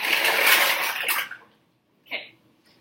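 Dry pasta pours into a pot of boiling water with a hissing, splashing rush that fades out, followed after a short pause by a brief softer splash.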